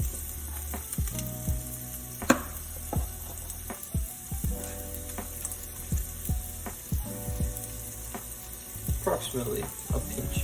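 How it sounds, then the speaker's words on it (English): Vegetables for vegetarian biryani saute in a pan with salt, giving a soft, continuous sizzle broken by light stirring scrapes and clicks, close and fairly quiet. "Let that saute. And to speed up the saute process, I'll add a little bit of salt."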